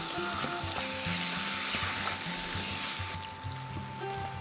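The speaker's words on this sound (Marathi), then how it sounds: "चांगलं ना हे परतून घेऊयात।" Green peas with salt are sautéed in a pan for matar usal, a close, constant sizzling hiss with soft stirring scrapes throughout and no voices.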